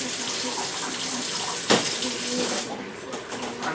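Tap water running steadily into a sink while food is gently rinsed, a continuous close splashing stream with a brief clatter midway, then the flow softens slightly.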